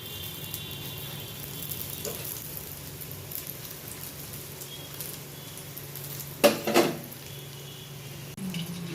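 Aloo paratha laid gently onto a hot tawa in white oil, with a steady low sizzle throughout and a brief louder clatter midway as the bread goes in, no one speaking.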